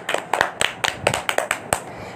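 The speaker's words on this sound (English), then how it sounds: "Clapping. Clapping." About ten sharp hand claps in a quick, slightly uneven rhythm, close and fairly loud with no talking over them.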